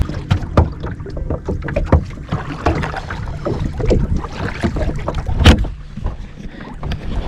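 A kayak is launched and paddled on Saguaro Lake, Arizona, with close irregular splashes and paddle strokes knocking against the hull, under steady wind noise on the microphone.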